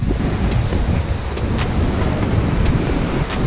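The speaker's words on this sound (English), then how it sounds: "These waves are so violent down here." Violent ocean waves crashing against jagged rocks at Loch Ard Gorge on the Great Ocean Road, a loud roaring wash of surf mixed with heavy wind buffeting on the microphone, continuous and close.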